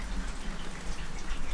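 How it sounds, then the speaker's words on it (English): Steady rain patters on a surface nearby, a dense even hiss of drops with no voices. "Damn you, rain."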